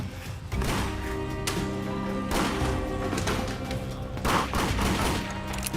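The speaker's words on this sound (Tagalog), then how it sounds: "Kunwari nagta-target shooting po ako." Sound-effect gunfire plays during pretend target shooting with a homemade toy gun, as bursts of rapid popping shots in rough clusters over a busy background, fairly loud and without talk.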